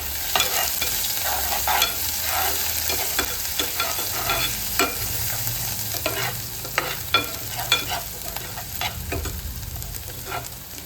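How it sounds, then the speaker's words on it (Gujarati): Ginger, chili and garlic paste fries in hot oil while being stirred, a steady close sizzle overlaid with repeated scraping strokes of the spoon against the pan. "એમાં આદુ મરચી અને લસણની પેસ્ટ ઉમેરી દઈશું"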